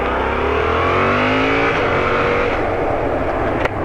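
Yamaha MT-07 motorcycle engine under way on the road, loud and close, with rising revs through the gears, a smooth shift around the middle, then steady engine drone and wind rush.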